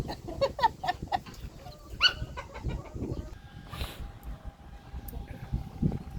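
Several chickens cluck and call nearby in short, irregular bursts over a soft outdoor background.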